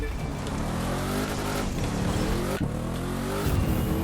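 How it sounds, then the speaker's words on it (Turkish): A car engine revs hard in the racing game The Crew 2, a loud sustained whine with rising and falling pitch sweeps as gears change, steady throughout with a brief dip midway. "Bir daha gaz köklüyoruz."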